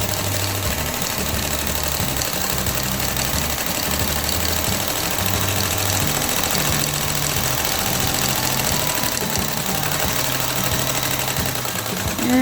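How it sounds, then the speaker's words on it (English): A sewing machine stitching a fabric headband with elastic, running continuously with a fast, steady mechanical rattle and hum, close and loud, and no talking. "Okay, so I'm going to sew it about 1/4 inch."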